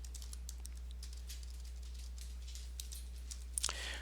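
Fingers tap quickly on a computer keyboard in a light, steady patter of keystrokes heard up close over a low electrical hum. A sharper click comes near the end.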